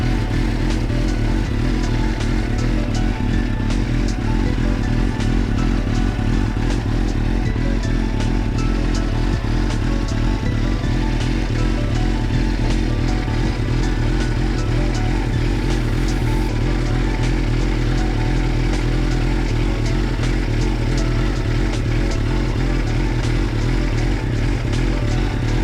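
A 2004 Suzuki GSX-R 600 motorcycle engine idles steadily and loudly for the whole stretch during an engine flush, a constant rumbling drone with no talking.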